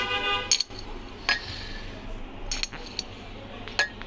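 A spoon clinks lightly against a coffee container and cup while scooping four spoonfuls of coffee for cold coffee: a few sharp metallic taps spread over a quiet room, with no talking.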